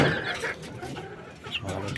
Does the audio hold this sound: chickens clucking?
yes